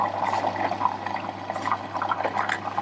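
Steady rushing, gurgling water flowing through pipes, close and fairly loud, with a low hum underneath and no talking.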